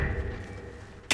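A magic summoning spell is cast in the Hogwarts Legacy video game: a brief, sharp whooshing burst lands at the very end, over a steady humming ambient background.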